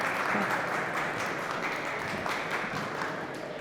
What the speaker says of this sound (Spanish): Démosle un fuerte aplauso a Saide.